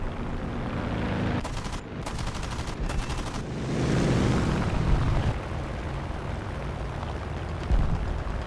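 A bomb dropped from an F4U-4B Corsair fighter-bomber in a combat flight game bursts into a rumbling blast, with a sustained low roar swelling midway, preceded by a few sharp bursts of gunfire and steady engine drone.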